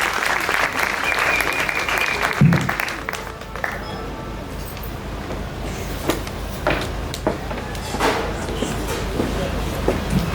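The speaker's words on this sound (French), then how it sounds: "Je vous prie d'applaudir très fort pour lui," Audience applause at a gala evening, a steady wash of clapping from a crowd that runs throughout, with a few door-like knocks and thumps over it.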